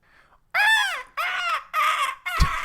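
A person imitates a bat with four loud, harmonic, screechy squawks in a rough rhythm, each rising then falling, close to the microphone and alone, with a soft murmur before.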